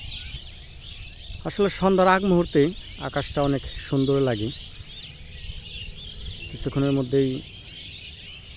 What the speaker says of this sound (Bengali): পাখিগুলো কিচির মিচির ডাক